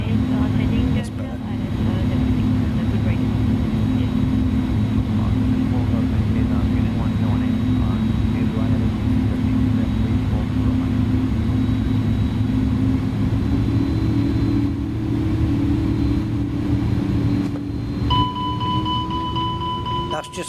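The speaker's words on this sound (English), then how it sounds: "That's just me applying full throttle to get the plane going." Airbus A310-300 engines at full throttle in Microsoft Flight Simulator, a steady loud jet roar with a deep droning hum that holds for the whole stretch, pitch creeping up slightly near the end.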